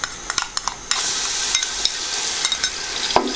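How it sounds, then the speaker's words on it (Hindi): Onions frying with ginger garlic paste in a pot for beef paya curry, a steady loud sizzle broken by repeated stirring scrapes and clinks, with no talking. "मिक्स करेंगे और लाइट सा गोल्डन कलर आने तक हम प्याज को फ्राई करेंगे"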